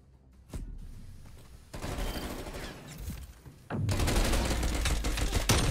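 Bursts of rapid gunfire in a shooter video game, starting with a single shot, then sustained volleys that grow louder toward the end, with no talk over them.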